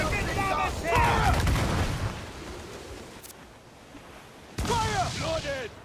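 Ship cannons boom in a naval video game battle, with a couple of heavy blasts and crackling reports, while voices shout over the action.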